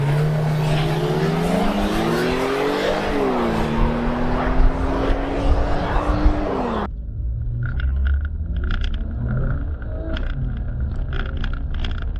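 A 2000s Porsche supercar and a Skoda family estate in a drag race. Loud engine roar rises in pitch through gear changes, then shifts abruptly to a muffled in-car engine drone with a rhythmic tapping noise.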